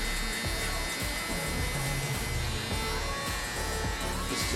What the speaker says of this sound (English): Always scooping or flicking or feathering the clipper